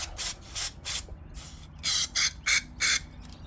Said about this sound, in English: Use some of this parts carb cleaner to clean this shit out.